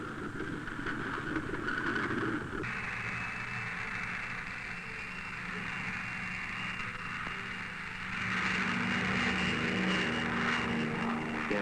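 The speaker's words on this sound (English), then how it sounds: "loaded into a P-38 plane specially equipped for the cloud seeding operation" Propeller drone of a P-38 aircraft specially equipped for cloud seeding with dry ice pellets, a steady broadband engine roar that swells louder toward the end, with no voices.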